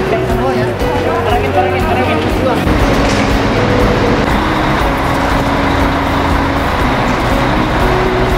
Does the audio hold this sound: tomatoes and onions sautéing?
no